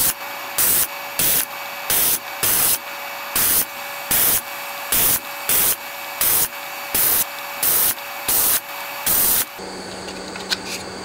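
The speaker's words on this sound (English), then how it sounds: "The rest of it's pretty open, so I can get it with the squirty can." Aerosol spray can cleaning parts of a Beocord tape recorder, a rapid series of about a dozen loud, short, close hissing bursts at a steady rhythm, followed by a faint hum.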